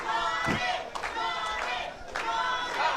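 A wrestling crowd at a Hollywood championship show cheering and shouting in rising waves, a broad roar swelling and fading a few times over a few seconds, with a voice mixed in.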